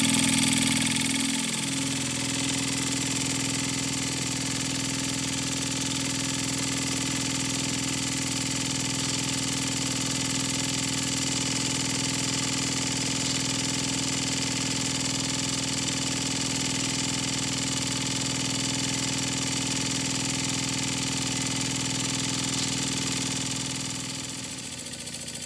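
A Wilesco D430 model steam engine runs at a constant pace, giving a steady, close mechanical hum and whir that holds even the whole time and eases off near the end, with no voices.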